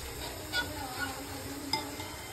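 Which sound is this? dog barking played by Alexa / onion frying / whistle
onion frying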